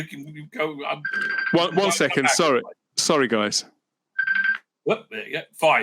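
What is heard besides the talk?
phone ringing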